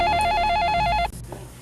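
A telephone rings in a movie scene, a loud, rapidly warbling electronic ring repeating steadily for about a second before cutting off abruptly into quiet room tone.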